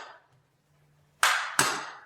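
Two sharp metallic taps from a small hammer on a dual action fuel pump from a 1962 AMC Rambler, a short pause between them, each ringing briefly after a quiet stretch.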